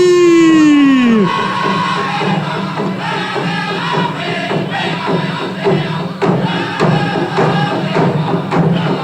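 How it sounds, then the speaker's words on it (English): A crowd screams, whoops and cheers at a Grand Traverse Band of Ottawa and Chippewa Indians round dance. The sound is loud and sustained, with a singing voice rising over it at the start and thumping beats underneath. "Crowd, let's hear you scream!"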